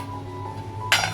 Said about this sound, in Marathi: आता आपण 10-15 मिनिटं झाकण मारून ठेवूया.